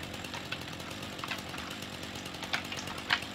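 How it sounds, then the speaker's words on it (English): A chainsaw labours as it struggles to bite through wood, a faint buzzing drone with a few short surges near the end. "chainsaw doesn't seem to want to go through this"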